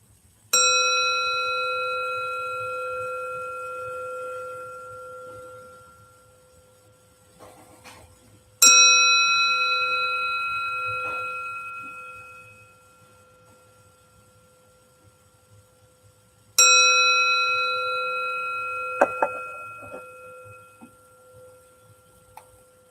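A meditation bell is struck three times at even intervals, each strike a clear ringing tone that lingers and slowly decays into near silence, with a few soft knocks between strikes.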